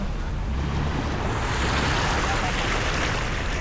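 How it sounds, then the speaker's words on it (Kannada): Sea waves crash and surge onto a beach in a steady, loud wash of surf, close by and mixed with wind buffeting the microphone. "ಅಲೆನೇ ಇಷ್ಟು ಜೋರ್ದಾಗ ಹೊಡಿತಾ ಇದೆ"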